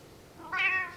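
A single drawn-out meow from a house cat, close and fairly loud, rising and fading over half a second against quiet room tone.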